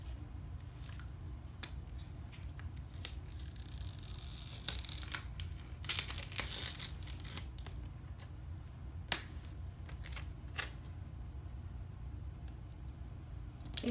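Sticker peeled from a planner sticker book, soft crinkly tearing and snapping paper sounds, close and quiet, with a brief denser rustle in the middle and scattered small clicks.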